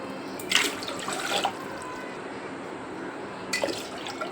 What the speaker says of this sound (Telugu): 2 పెద్ద గ్లాసులతో 2 గ్లాసులు నీళ్ళు తీసుకుందాం